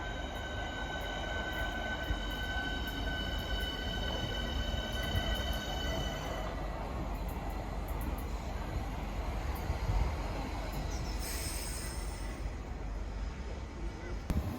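Class 700 unit 700114 passing on the fast track in south London, bound for Peterborough: a loud, steady rolling rumble throughout, with high whining tones that fade about halfway and a brief squeal near the end.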